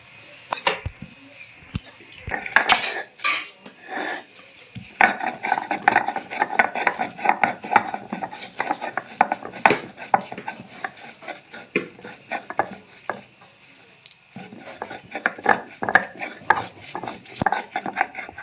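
Lightly roasted spices are ground by hand in short, uneven scraping and clinking bursts, close and fairly loud, with brief pauses and a voice heard at times.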